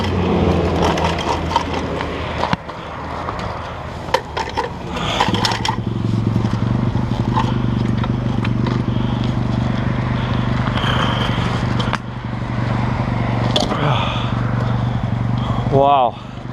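A Honda CR500 two-stroke motorcycle is ridden, its engine droning loud and steady with revs rising and falling and rough scraping bumps over the terrain. A voice speaks at times over the engine.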